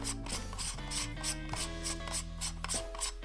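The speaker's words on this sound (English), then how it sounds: "I'm gonna go ahead and that just screws on." A NiSi UV filter is screwed by hand onto the fine threads of a Sony G Master 24-70mm lens, giving close, soft ratcheting and rubbing clicks in a steady run over a sustained tonal background.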